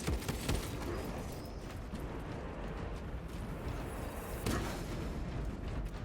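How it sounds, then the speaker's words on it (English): Dense, rumbling game battle noise as a Titan launches missiles, repeated booming bursts and crackling blasts, loud and continuous throughout, missiles firing in rapid succession. "The Titan launches its missiles."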